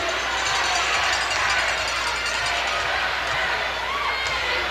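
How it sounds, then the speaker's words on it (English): A wrestling arena crowd chanting, a loud, dense roar of many voices filling the space steadily from start to end. "That crowd's still chanting"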